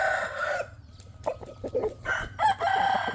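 A rooster crows nearby, a long strained call followed by clucking and shorter crowing bursts from fowl close to the microphone.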